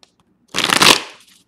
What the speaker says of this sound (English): shuffle right here.